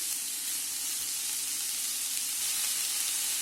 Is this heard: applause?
no